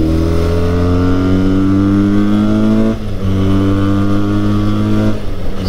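A Benelli 302R 300cc sports bike engine pulls hard uphill, a loud, steady droning exhaust note with rising pitch, briefly dipping at a gear change near three seconds and again before the end, with no voices.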